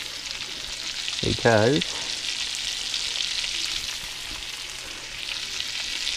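Onions sizzle steadily in a hot pan as a home cook prepares liver and onions, a close continuous frying hiss with a brief clatter early on and a voice talking over it.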